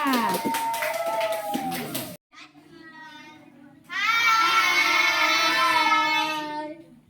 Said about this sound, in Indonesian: kalau tidak tepuk tangan dulu